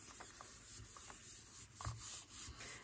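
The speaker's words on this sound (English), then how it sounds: "Give it a little rub." A stamped paper envelope flap is rubbed by hand against an ink stamp block, giving a soft, close, papery friction in a few short strokes with brief pauses between them.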